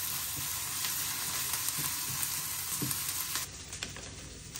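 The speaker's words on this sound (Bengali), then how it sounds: "এখানে আগে আমি পেঁয়াজ ভেজে নিতেছি।" Onions frying in a pan, a dense, steady hiss of sizzling oil with light crackles and occasional stirring taps, dropping slightly quieter toward the end.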